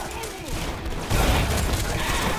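Rapid gunfire in Red Faction: Guerrilla, a dense burst of shots that swells louder halfway through, with a voice speaking over the start.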